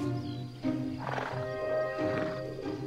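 Wild horses in Hungary call out with a few close, harmonic whinnies and snorts, one after another, amid soft outdoor background sound.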